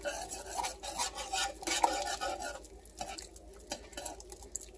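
Eggs are stirred into a pot off the heat while making macaroni and cheese, giving soft irregular scraping and clinking of a utensil against the pot, moderately close with no talking.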